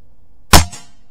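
A Diana Airking Pro (Diana 54) spring-piston air rifle fires one sharp, loud shot up close, with a quick metallic crack and a short ringing tail.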